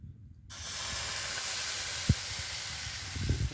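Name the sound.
dosa batter poured onto hot griddle, sizzling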